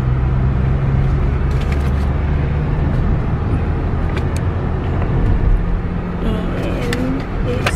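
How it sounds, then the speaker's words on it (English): Steady road roar of a car cruising onto the interstate, heard from inside the cabin as a dense, even low rumble with tyre and wind noise, a few faint clicks and rattles on top. "now we're about to get on the interstate and go"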